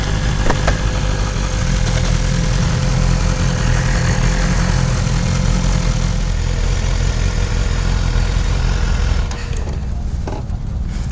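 A BMW S1000RR motorcycle engine runs close and loud in a steady, buzzing drone that holds evenly, then drops away briefly near the end, with no talking.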